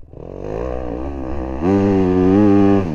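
A motorcycle climbs a hill while wheelieing, its engine revving hard and close, the pitch rising and wavering before a sharp surge to a louder, sustained high-rev roar.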